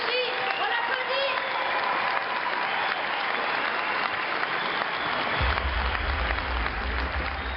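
An audience applauds Rachid Ghannouchi, president of the Ennahda movement, with sustained dense clapping from a large crowd throughout, loud and continuous, joined by a low rumble near the end.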